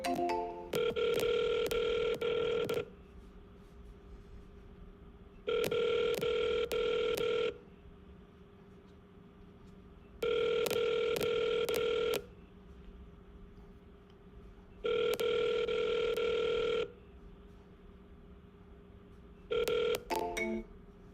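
Phone line on a live sales cold call: a dual-tone ring pulses in steady two-second bursts about every five seconds, five times, with faint dialing beeps at the start and no answer.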